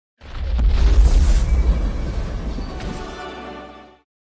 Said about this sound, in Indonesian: Pesawat itu meledak bersamanya.